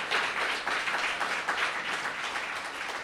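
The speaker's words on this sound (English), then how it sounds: "Give them another round of applause." Audience applause welcoming two guests at an evening event, a dense, even wash of many hands clapping from a room-sized crowd, sustained at moderate loudness with no voices over it.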